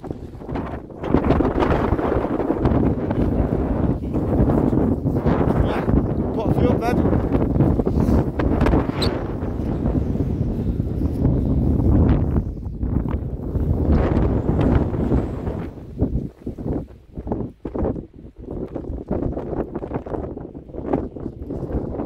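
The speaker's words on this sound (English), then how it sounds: "A little bit too windy and I think it's getting worse as the day goes on" Strong wind in the Scottish Highlands buffets the microphone in loud, steady rumbling gusts that dip briefly near the end, with a person talking through much of it.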